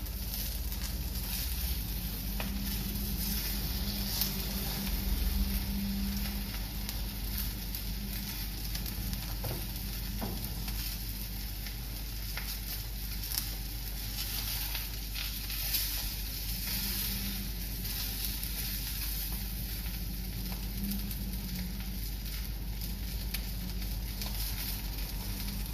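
Sausages browning in a frying pan give off a steady, even sizzle that runs unbroken and close, with faint crackles and spits scattered through it and no voices.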